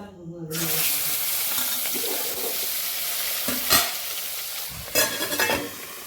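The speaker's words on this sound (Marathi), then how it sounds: "आता मी हलवून घेते सगळं" Broadband frying hiss fills the clip as a spoon stirs and scrapes marinated tilapia in tempering in a pan, with a couple of louder clanks near the end.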